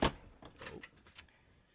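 A pocket door in a tiny house restroom slides and bumps, with a sharp knock at the start followed by a few softer rattles and clicks, close and quiet.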